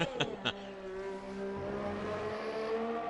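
A Honda-engined race car in a racing video game holds a steady, smooth engine drone that gently shifts pitch. Two brief sharp bursts open the sound, and the car stays fairly quiet throughout.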